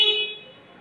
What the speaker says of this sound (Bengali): তারপরে দেখেন এটা হচ্ছে হর্ন।